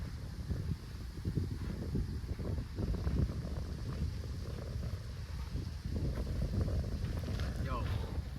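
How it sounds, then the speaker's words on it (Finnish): Strong crosswind buffets the microphone throughout on an outdoor golf course, a continuous low rumble with gusty surges and some faint movement sounds. "Oikealta vasemmalle aika kova tuuli."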